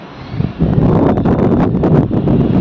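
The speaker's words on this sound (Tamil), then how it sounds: "செம்ம காற்றடிக்குது." Strong wind gusting before an evening rainstorm, a loud rushing roar that swells after a quieter start and buffets steadily throughout, with no talk.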